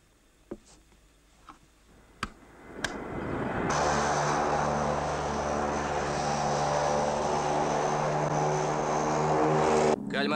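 A propeller aircraft in a film scene starts with a few sharp clicks and ticks, then its engines roar up into a loud sustained drone with a steady tonal hum that continues alone.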